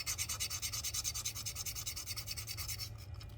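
Quick rhythmic back-and-forth scuffing removes protective film from a guitar fretboard during a build, a close, steady scratchy rubbing of about a dozen strokes that stops near the end.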